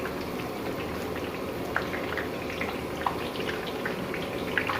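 Nylon sev frying in a pan of hot oil, a steady dense sizzle and bubbling with occasional small pops, continuous and fairly close.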